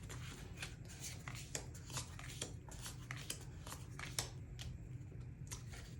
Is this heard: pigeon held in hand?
no